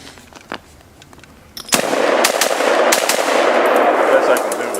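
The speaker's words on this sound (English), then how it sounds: "I can't get quick follow-up shots with these things" Rapid string of gunshots from a striker-fired pistol, a couple of faint shots at first and then a loud burst of quick follow-up shots echoing close by with no talk.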